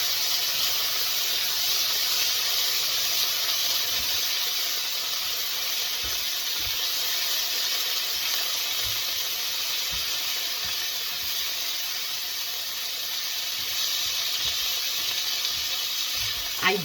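Onion, garlic and celery sizzle steadily in a pan, a continuous loud hiss and crackle that holds evenly from start to finish with no talking.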